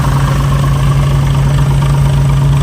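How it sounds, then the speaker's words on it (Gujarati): A tractor engine idles close by with a steady low throbbing chug, loud and unbroken, with no voices. "બે ટ્રેક્ટર જો"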